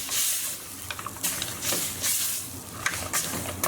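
Coconut cream from a 400 gram can being stirred through with about a tablespoon of sugar in a pot, giving a soft continuous scraping and swishing with faint hissing bursts, close and fairly quiet.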